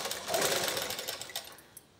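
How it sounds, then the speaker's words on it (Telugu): A sewing machine runs close and steady, stitching blouse fabric with a fast, even mechanical whir that tapers off near the end. "ఇక్కడ పెద్ద కుట్టు వేసేసుకోవాలి"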